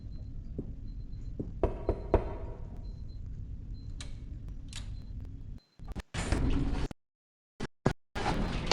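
Elevator doors slide open in a horror video game, giving a mechanical rumble and whoosh among scattered clicks and thumps, then abrupt cuts to silence and short bursts of noise.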